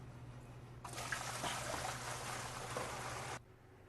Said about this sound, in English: I'm going to dump that 4 gallons into the hopper.